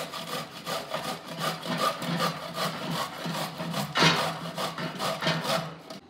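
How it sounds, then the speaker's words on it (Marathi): Roasted dried coconut half being grated by hand in a home kitchen while making masala: rapid, continuous rasping strokes in a steady back-and-forth rhythm, close and clear with no talk. "भाजलेली खोबऱ्याची वाटी आता किसून घेते."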